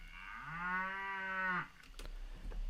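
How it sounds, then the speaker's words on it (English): A single cow moo from a downloaded sound sample: one long, loud bellow with a rising pitch that holds for about a second before cutting off abruptly, followed by quiet background noise. "So the first thing we need to do is download a cow sound"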